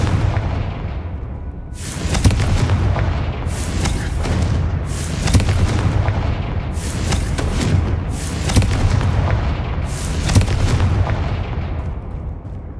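Repeated Confringo spell blasts from the Hogwarts Legacy video game boom in a steady series of about seven heavy explosions roughly every 1.5 seconds, loud and alone with no talk.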